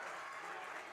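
A crowd at a 2022 WIAA high school football game between DC Everest and Marshfield cheers and claps in a dense, continuous roar, heard from a distance in the stands for about a second.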